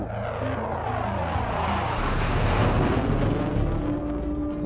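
Military jet aircraft, an F-16, roaring overhead on a combat scramble, a loud sustained broadband rush that swells toward the middle and holds as it passes, with no voices.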